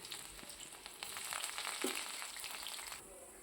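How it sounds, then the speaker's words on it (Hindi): Steady crackling sizzle of onions frying in hot oil tempered with cumin and garlic, close and fairly quiet, with scattered pops and no voices. "जीरे और लहसुन का छौंक लगा के मैंने डाले प्याज"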